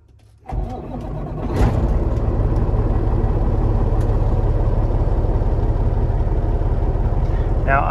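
A semi-truck hauling a load cranks over and fires up inside the cab, settling into a loud, steady diesel idle.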